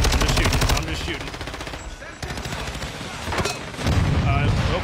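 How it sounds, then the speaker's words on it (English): Rapid automatic gunfire in the Call of Duty video game, loud sustained bursts of shots with brief pauses, under a player talking. "I'm just shooting."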